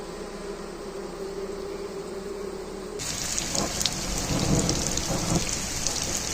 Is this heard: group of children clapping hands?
no